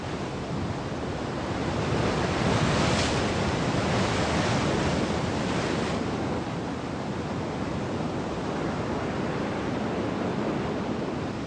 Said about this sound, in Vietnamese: Mùa này sóng lớn, gió to nên thưa khách